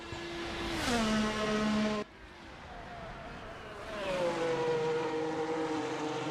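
Race car driven by Colin Edwards at Las Vegas coming through Koval Lane, its engine note rising then dropping as it passes close by, followed by a second car revving up as it accelerates away.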